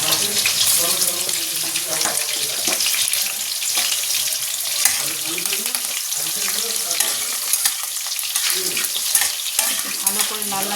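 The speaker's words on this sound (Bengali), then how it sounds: "ভালো করে লাল লাল করে ভাজবো।" Grated garlic, chilli and black cumin spluttering in hot oil, a loud dense sizzle close up that runs without pause, with scraping stirs throughout and no spoken words.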